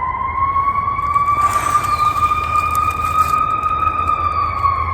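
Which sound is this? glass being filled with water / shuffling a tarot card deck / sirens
sirens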